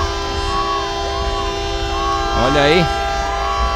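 A loud truck horn blares in long wavering blasts near a street protest outside the 16th Battalion in Natal, sounding over a steady crowd hum while someone talks.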